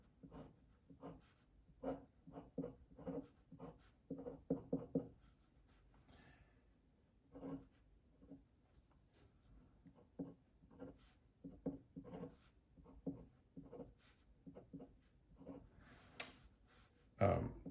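Pen or pencil writing and drawing on paper during a chemistry lesson on syn dihydroxylation: quiet, close scratchy strokes in irregular bursts, with faint breathing and occasional soft sounds between them.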